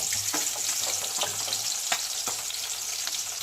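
Whole spices and chopped onion sizzle and fry in hot oil in a pan, a steady close crackle with occasional stirring scrapes and small pops throughout, no voices.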